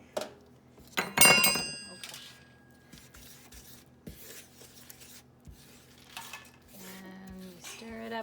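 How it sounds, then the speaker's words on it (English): Sourdough starter gets stirred in a bowl, with scraping, tapping utensil sounds, a bright clink of metal on the bowl early on, and intermittent thick stirring noises, close and moderately loud. "And you stir it up and it will be really thick."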